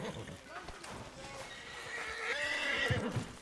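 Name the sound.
horse neighing in a video game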